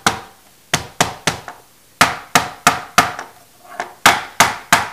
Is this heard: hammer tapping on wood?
yes